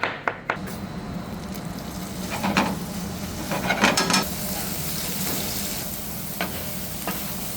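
Sliced veal fillet and mushrooms fry in oil with a steady sizzle, broken by scraping stirs and utensil clatter against the pan.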